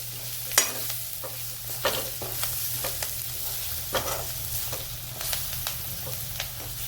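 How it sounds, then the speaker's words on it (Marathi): Spice masala for a tinda (round gourd) curry is sautéed in a pan, giving a steady low sizzle broken by repeated sharp scrapes and clinks of a spoon as it is stirred close by. "आता या मसाल्याला आपण परतून घेऊ।"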